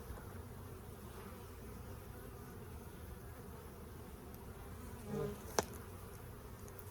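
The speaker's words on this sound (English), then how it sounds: "You can see a lot of bees coming in." Honey bees buzzing around a farm beehive, a faint continuous insect hum with a louder bee passing close for a moment and a brief click near the end.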